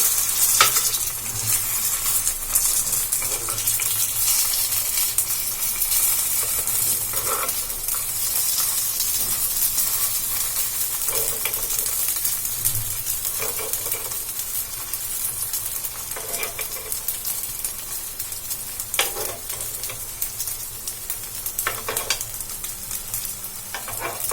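Sago pearl evening snacks cook slowly over a low flame, producing a continuous soft hiss and sizzle with occasional scraping turns of a utensil, steady and close for the whole stretch.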